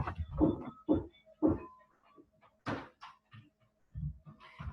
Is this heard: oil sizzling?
no